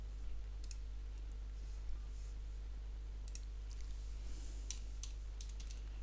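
Computer keyboard typing while entering text in Adobe Fireworks CS4, heard as sparse, soft clicks and key taps over a steady low hum, quiet and close.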